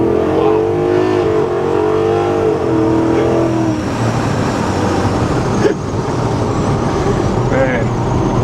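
Truck with a 460-horsepower engine and 10-speed automatic accelerating, a steady engine drone that rises in pitch then shifts into a rougher, broader roar, heard from inside or nearby with people talking over it.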